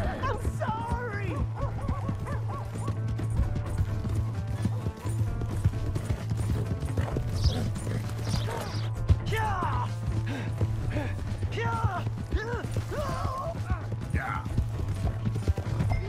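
Horse hooves clip-clop steadily in Red Dead Redemption 2's Valentine town, a stolen horse ridden off under a constant low hum, with voices talking over the hoofbeats throughout.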